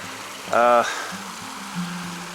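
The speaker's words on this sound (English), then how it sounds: "this is Little Piney Creek right here" Little Piney Creek, swollen after rain along the Ozark Highlands Trail, gives a steady rushing flow in the background while someone talks briefly over it.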